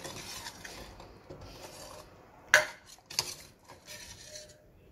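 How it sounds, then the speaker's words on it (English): A spoon stirs cream into milk in a cooking vessel while making Sheer Khurma: quiet scraping and swirling with two sharp metallic clinks near the middle, close and fairly soft, no voices. "Take out all the cream from the sides of this vessel and mix it to the milk"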